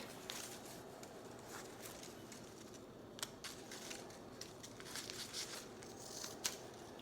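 Scissors snip through paper cutouts in a quiet room, a few soft, irregular crisp cuts over a low hiss, with no talking.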